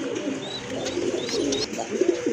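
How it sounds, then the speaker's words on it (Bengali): White Danish pigeons coo softly and repeatedly at close range, their low, throaty calls rolling over a faint background hum. "আর এক জোড়া কবুতর দেখেন"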